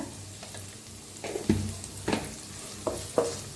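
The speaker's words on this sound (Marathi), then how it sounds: "त्याला तेलात छान असं भाजायचं बघा" Garlic roasting in hot oil in a pan for kadhi, a soft frying sizzle broken by several sharp spatula scrapes and stirs at irregular intervals, close and quiet with no talking.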